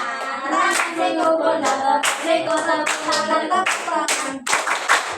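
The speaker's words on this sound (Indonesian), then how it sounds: "Tepuk siku pundak, tepuk tangan." Classroom of students in an Islamic school clap in unison during a rhythmic clapping game, sharp bursts of hands in a quick repeating pattern mixed with chanting voices.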